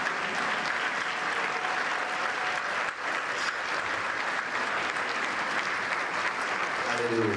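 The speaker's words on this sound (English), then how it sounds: "I'm going to ask everybody to stand up. We're going to clap, all of us." A church congregation stands and claps together in sustained applause. The clapping is dense and even throughout, with voices faintly audible beneath it.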